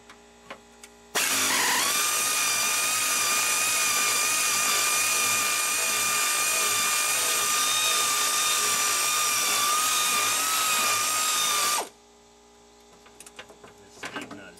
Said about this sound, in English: The speed nut is just spinning around in there.